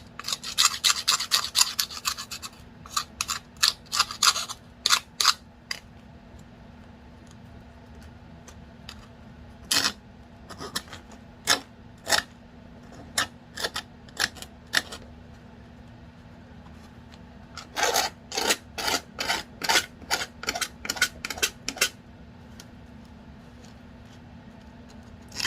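A hand file rasps across a unicycle pedal in bursts of quick scraping strokes, close and crisp, with pauses between clusters of strokes.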